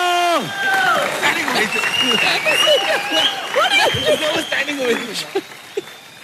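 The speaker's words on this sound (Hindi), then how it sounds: "सुपर, जोरदार तालियां।" An audience gives loud applause after a performance, with cheering, whistling and excited voices layered over dense clapping that carries steadily throughout.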